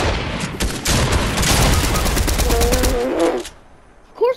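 Rapid automatic gunfire from a Fortnite match rattles loudly and close for about three seconds, then cuts off, leaving a quieter tail with a short electronic tone and a brief burst at the end.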